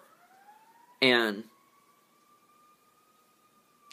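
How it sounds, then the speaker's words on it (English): An emergency siren wails steadily outside, faint and distant, with a rising tone that holds through the clip while a person speaks briefly over it. "how weird that a siren is playing right now at this point in the video outside"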